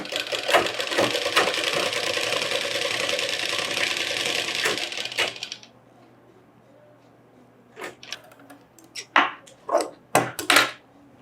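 A sewing machine stitches a Pathani kurta sleeve in a dense, rapid whir for about five seconds, then stops, followed by scattered handling clicks and thumps.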